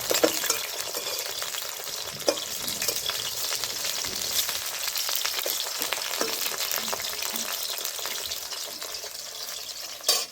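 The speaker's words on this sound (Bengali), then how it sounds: "এখন আমার ভাজা হয়ে গেছে, এখন আমি তুলে নিচ্ছি।" Chitol fish fritters sizzle steadily in hot oil, a dense continuous frying hiss with occasional light clinks of a utensil stirring, close and loud with no talking.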